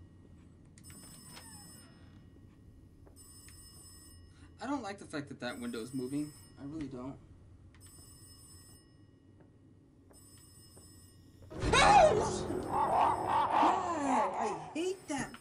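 A telephone rings in the horror video game Rise of Insanity 4, faint repeated ring bursts spaced a few seconds apart, with someone talking over it in two stretches.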